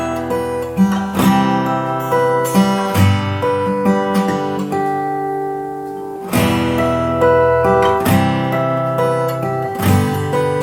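An electric or acoustic guitar plays a riff from a song, with repeating picked single-note phrases and sustained tones, clear and loud throughout with no talking.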